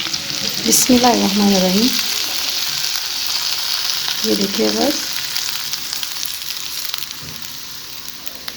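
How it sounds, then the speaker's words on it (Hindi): Tadka tempering pours into a pan of chana moong dal for a street-style dish, giving a steady close sizzling hiss throughout, with a voice speaking briefly over it near the start. "तो आइए हम अब दाल को तड़का लगाते हैं।"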